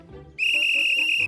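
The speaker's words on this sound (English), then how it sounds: "As soon as the whistle blew," A single shrill whistle blast, held steady for about a second, loud and close, with faint sounds underneath.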